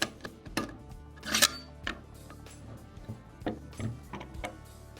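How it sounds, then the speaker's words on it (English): Charging handle and bolt slid into the upper receiver of a Bushmaster M4 rifle during cleaning, a string of quiet metallic clicks and clacks with one sharper snap partway through, close and alone. "Place the charging handle and the bolt in like so."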